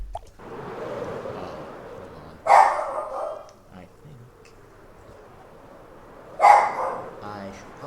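Two sharp barks from pet dogs at home ring out about four seconds apart over a low, steady background murmur that sounds like talk.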